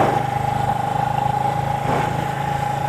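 Cafe-style motorcycle riding on New Jersey roads with inclines and curves. The engine gives a steady mid-range drone with a constant whine, loud and close throughout, and no talk over it.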